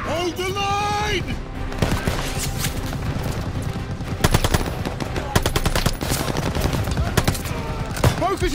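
Machine gun fire in the Call of Duty Vanguard video game: dense, rapid bursts of automatic gunfire, loud and close, with sharp repeated cracks layered over battle noise and a rising voice at the start.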